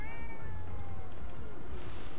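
In the video game Ghostwire: Tokyo, a cat lets out a clear, drawn-out meow with a descending wavering pitch, loud and close over a steady ambient hum.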